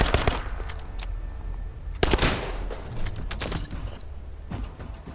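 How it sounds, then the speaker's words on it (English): Rapid video game gunfire, with a burst of automatic shots and single cracks, loud and close, in a competitive shooter; no voices over it. "a lot of their guns sound like Call of Duty guns to me"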